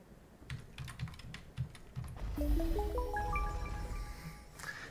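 Keys on a computer keyboard clatter in a short run of distinct, fairly close clicks during play of the video game TUNIC, then give way to a rising chain of bright electronic chime tones.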